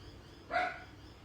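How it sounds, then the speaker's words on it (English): A puppy gives a single short, sharp bark indoors at home, fairly close, standing out briefly against a quiet background. "That naughty little puppy dog."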